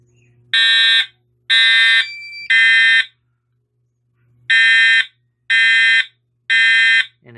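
FireLite MS-5UD fire alarm panel in drill mode sounding through its notification appliances: loud, close electronic horn blasts in a temporal pattern, three half-second bursts, a pause, then three more.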